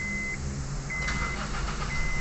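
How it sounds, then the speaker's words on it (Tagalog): A Honda CR-V Gen2 with a faulty starter motor clicks a few times in a short burst while a dashboard warning chime beeps on and off, close up. "minsan naman pitik lang ng pitik yung starter motor"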